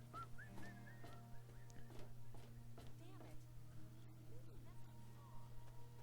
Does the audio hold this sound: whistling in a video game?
yes